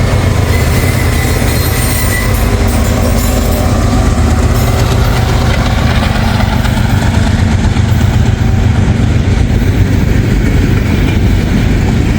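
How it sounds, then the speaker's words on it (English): Big, heavy Norfolk Southern freight train rolling past close by on a spring day, a loud continuous rumble of wheels and cars with faint squeals, no talking. "So this is a Norfolk Southern train."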